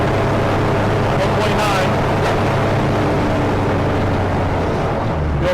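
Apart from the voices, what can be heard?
aircraft engine with propeller running after start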